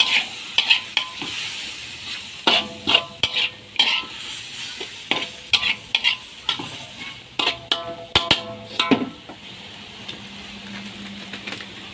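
Frog is stir-fried with holy basil in a pan, with a steady sizzle under frequent loud metallic scrapes and clacks of a spatula against the pan in an irregular rhythm.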